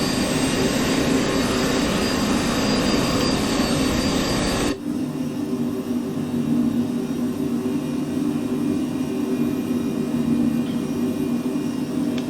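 Private jet engine roaring at takeoff in Microsoft Flight Simulator, a loud steady broadband rush with a sharp drop in level near the midpoint, then a lower continuous drone to the end.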